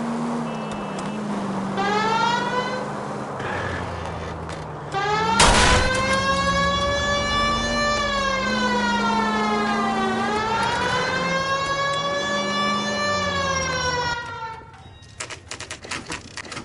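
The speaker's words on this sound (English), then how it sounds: "I feel more comfortable with the siren on" A police car siren in the video game L.A. Noire wails steadily up and down for about ten seconds, loud and close over engine rumble, then cuts off into clicks.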